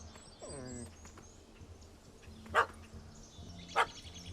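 A puppy in The Witcher 3: Wild Hunt – Heart of Stone barks a few times. The short, sharp yaps stand out clearly against a quiet outdoor background with faint birds and insects.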